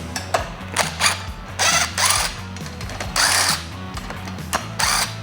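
Power tools whir in short bursts as fresh nuts replace rusty ones on the triple clamp of a 1999 Kawasaki KX250 motorcycle, nearby and fairly loud over a low steady hum, with no talking.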